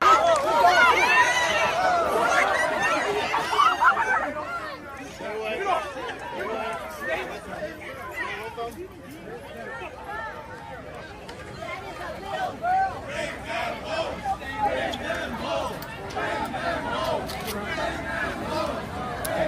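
A huge protest crowd at the University of Michigan fills the air with dense babble and overlapping shouts, swelling and easing over time, with scattered voices standing out near and far.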